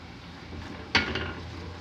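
Flour being stirred into ghee in a pan while making béchamel for eggplant moussaka with minced meat, with a spoon scraping and clinking against the pan, one sharper clatter partway through over a steady low kitchen background.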